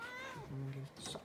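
A pet cat meows in a room, a short rising-and-falling call heard close by, with a person talking over and around it.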